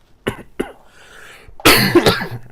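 Several coughs from a man teaching a science lesson: two short dry coughs, a pause, then a louder, harsher burst of coughing near the mic.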